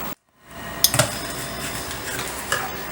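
Onions frying in a little oil in a small cooking pot, a soft continuous sizzle with a few clinks of a utensil against the pot after a brief silence; no voices.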